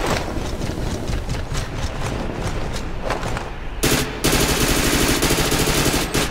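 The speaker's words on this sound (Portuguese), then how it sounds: "Eu estou ouvindo tiros." Rapid bursts of automatic gunfire from submachine guns in a shooter video game crackle continuously and loudly, with a brief lull before a heavier, denser volley.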